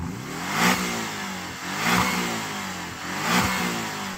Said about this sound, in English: Shall we have a listen to that 4-cylinder? Go on, 4-cylinder Cayman.